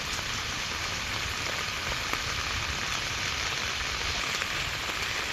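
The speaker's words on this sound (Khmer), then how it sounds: "មកឃើញហើយភ្លៀង" Steady rain pours down outdoors where buffalo are kept, a dense, even hiss of drops striking surfaces that holds constant throughout.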